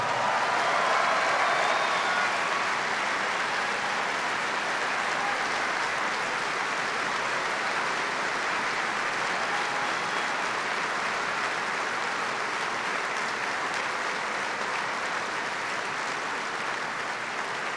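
Sustained applause from a large crowd at a Farm Bureau federation convention in Nashville, a dense, steady roar of clapping lasting throughout, loud and continuous with no talk.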